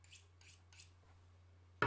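Scissors cutting cosplay material, three quick soft snips in a steady rhythm, close and quiet, followed by a sudden louder knock at the end.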